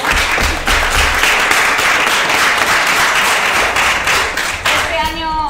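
Sustained applause and clapping from a small in-person audience at a cosplay contest stage event, a steady dense wash of claps lasting several seconds before fading out into a brief tonal sound at the end.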